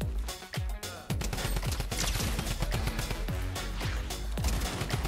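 Drum gun firing in the Fortnite video game, rapid bursts of loud automatic gunshots with brief gaps between them.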